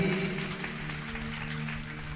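An audience claps together at a Bhagavat katha, a sustained, even burst of applause from a crowd under a faint steady hum, lasting the whole moment without a break.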